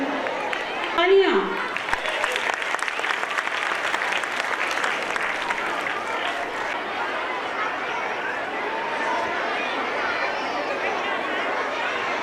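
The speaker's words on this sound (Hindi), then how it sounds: "तालियां।" Sustained, fairly loud applause from a school annual gathering audience, dense and even throughout. A brief amplified voice and a squeal of feedback cut in near the start, with faint chatter underneath.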